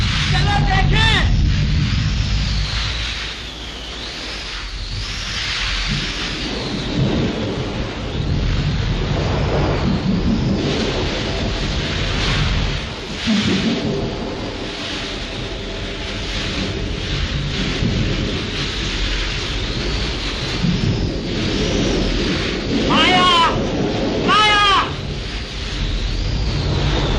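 Thunderstorm in an old 1937 Hindi film scene, with loud rolling thunder and steady heavy rain filling the whole track while people speak over it in places.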